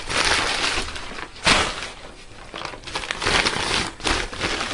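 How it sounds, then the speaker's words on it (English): Long sheets of newspaper crumpled by hand, a close run of crisp crackling and rustling bursts with uneven rhythm and no talk. "take your newspapers, remember the long ones, and crumple it up a little bit"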